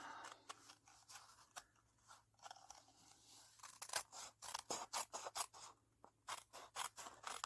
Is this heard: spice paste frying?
no